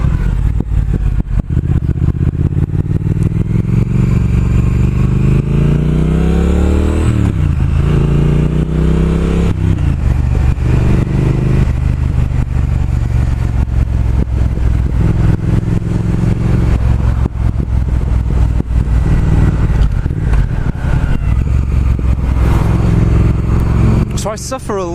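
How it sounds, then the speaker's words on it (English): A 2019 Triumph Speed Twin's twin-cylinder engine drones steadily while riding, loud and close, with rising and falling revs as it accelerates and shifts, continuous throughout with wind noise. "The sound of that twin engine again is beautiful."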